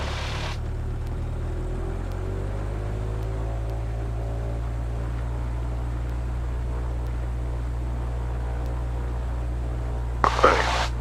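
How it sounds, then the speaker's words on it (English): Engine run-up of a Super Decathlon light airplane with the throttle advanced: a steady, loud low drone and hum holds throughout, with a brief louder burst near the end. "Now advance the throttle some."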